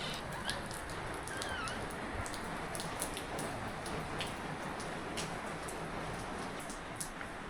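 Steady rain falls over Sangla in the Kinnaur Valley, a soft, even hiss of drops with faint scattered patter, fairly quiet and continuous with no voices.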